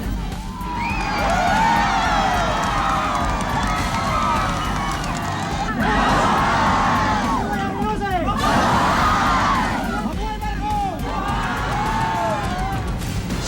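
A large crowd cheers, whoops and shouts in salute to Imelda Marcos as she stands on an old table, a dense, loud, rising and falling roar with voices mixed throughout.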